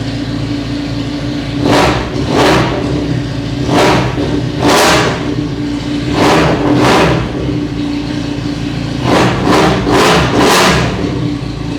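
A Benelli 502C motorcycle with a 500cc inline-two engine idles with a steady throb, then is blipped through a series of sharp revs, single and in quick pairs, loud and close with no talk.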